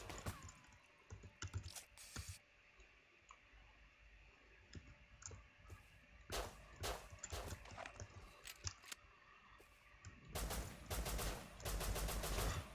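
Gunfire in the survival video game Rust, with sharp shots and rapid bursts cracking over a quiet background hum, scattered and then clustered near the end, with no speech.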